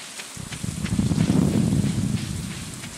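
Rain falls in the Stardew Valley video game as a steady patter with a soft low rumble underneath. It swells slightly after a brief quiet start, with no voices.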